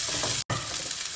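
Tomato sizzling as it is sautéed in a pan with onion and garlic, a dense, steady frying hiss broken by a short gap.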